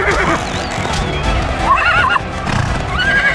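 Horse from a video game race against a demon, neighing and whinnying loudly near the middle and end, with clip-clop hooves galloping throughout over busy game noise.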